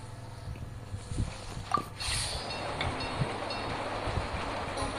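A train rolls along its tracks in the video game Genshin Impact, a steady rumbling drone with faint wheel clatter that holds at an even level throughout, with no talking.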